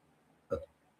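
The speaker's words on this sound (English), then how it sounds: "That was a burp." A single loud, close burp lasting about a fifth of a second, rising out of quiet room tone during a sports commentary show, with no talk over it.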